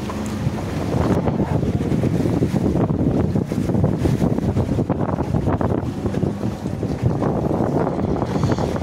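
A boat bouncing over sea waves off the Andaman Islands, a loud, continuous engine and water rush mixed with heavy wind buffeting the microphone throughout.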